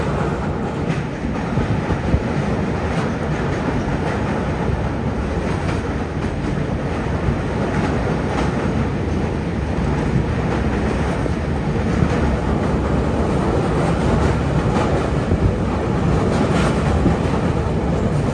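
A train on the Kanniyakumari to Dibrugarh route rumbles steadily along the tracks, a loud continuous roar with faint clicking from the wheels and no voices.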